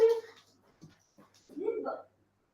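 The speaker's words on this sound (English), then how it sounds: "Goku's barking." A dog named Goku makes short yelping, whimpering barks close by: a bright burst at the start, a brief yip, then a longer whiny bark. Quiet gaps fall between the calls.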